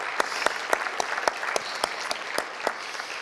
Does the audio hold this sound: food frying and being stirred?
no